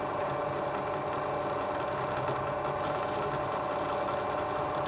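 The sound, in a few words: rotating tumbler machine cleaning small nuts and parts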